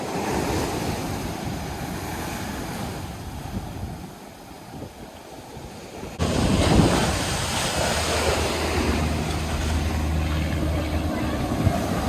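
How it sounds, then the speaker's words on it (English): Heavy Pacific Ocean surf breaks on a California beach in a steady, loud roar with wind buffeting the microphone, the crash swelling noticeably louder about halfway through. "Look at these waves."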